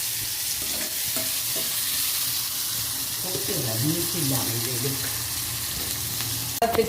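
Steady sizzling of bitter gourd frying in a pan with occasional stirring scrapes, continuous and close, ending with a brief clatter.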